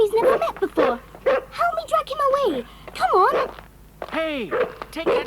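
Timmy the dog barking excitedly at a box of snakes in a dramatised scene, a run of yips, barks and whimpering bow-wows close by in bursts across several seconds.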